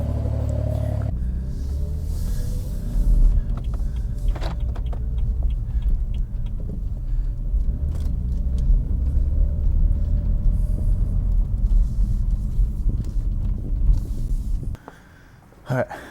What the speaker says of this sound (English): I'll get a little clip of driving off